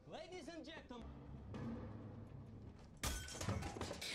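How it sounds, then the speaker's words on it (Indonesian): Glass in a train conductor's door shatters in a film scene, a sudden loud broadband crash near the end that follows a stretch of music and rumbling movie sound, with no clear voices over it. "Lewis berhasil memecahkan kaca pintu"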